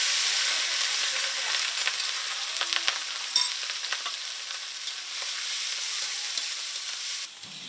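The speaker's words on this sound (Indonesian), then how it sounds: "semua bahan isian pun ditumis bersama hingga matang" Filling ingredients sautéed together in a pan with ground fermented dried shrimp paste and spices, a steady close sizzle with scattered scrapes and stirs running throughout and no talk.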